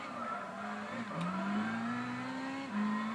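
Racing car engine in the video game Gran Turismo 6 holds a steady loud drone that climbs gradually in pitch, dips briefly as if shifting, then rises again, sustained throughout with no talking.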